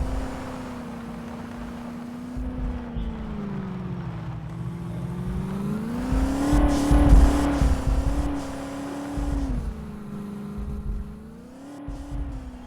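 A video game off-road vehicle engine hums steadily, then revs up to a louder rising roar before easing back down, with a droning whine throughout.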